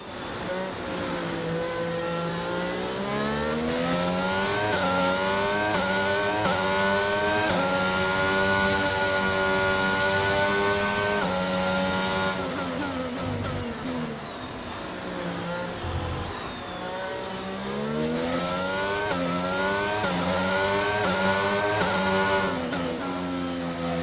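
Formula 1 cars in the F1 22 racing game come up from behind during the Monaco race. Engines whine and rise and fall in pitch as they rev and shift, loud and continuous, with no talk.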